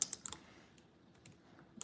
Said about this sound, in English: let's finish typing it in